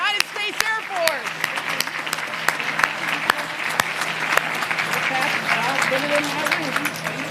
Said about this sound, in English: How about a big round of applause for our Color Guard and our Heritage Winds Quintet?